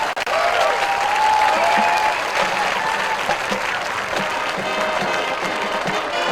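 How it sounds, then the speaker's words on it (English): A high school football crowd at Colerain vs. St. Xavier gives Coach Ben Hubbard a loud, steady round of applause with some cheering, continuous throughout, with faint voices mixed in. "Let's have a nice round of applause for Coach Ben Hubbard"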